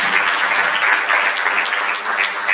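An audience at a mental wellness and counselling conference claps after a presentation, a dense, steady wash of applause filling the room for a couple of seconds.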